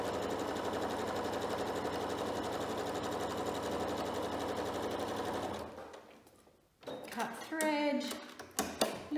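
A sewing machine stitching straight quilting lines runs in a fast, steady mechanical whir for several seconds, then stops, followed by quieter handling clicks and rustles as the work is moved.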